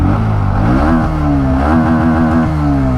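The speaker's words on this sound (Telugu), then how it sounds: "ఎగ్జాస్ట్ సౌండ్ విన్నారు కదా, ఫస్ట్ గేర్ వేసా" A 2024 Bajaj Pulsar NS 125 with a 124.4 cc air-cooled four-valve engine, its exhaust running at a loud, steady idle that swells into a brief rev, close up and continuous, with no voices.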